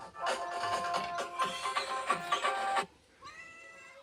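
Chiv, a pet cat in a rural Konkan home, meows in a short run of close, loud calls, then gives one softer, rising meow after a brief pause.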